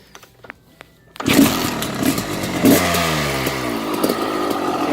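A 2000 CR80 big wheel dirt bike fitted with a 1988 CR250 motor catches and fires up after near silence, settling into a loud, buzzing, uneven idle with small revs, close by.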